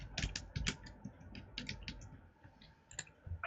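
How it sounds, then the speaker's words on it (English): Typing on a computer keyboard, a quiet close series of irregular key clicks and clacks in short bursts with small gaps, no voices. "I'm going to type that."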